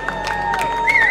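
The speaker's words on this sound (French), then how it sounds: "Un tonnerre d'applaudissements pour Théo" Crowd at an inclusive e-sport competition in an arena greeting a player walking on stage, a brief burst of cheering and whoops with some clapping, one shrill whistle-like cry near the end.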